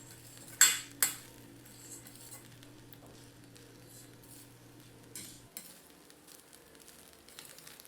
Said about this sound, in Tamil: வடித்த சாதம் சேர்த்துட்டு நல்லா குறைவான தீயில வச்சு நல்லா கலந்து விட்டுடுங்க